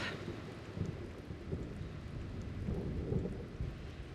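A heavy thunderstorm in the mountains, with steady rain hissing and low thunder rumbling beneath it, fairly faint and distant-sounding, without any talking.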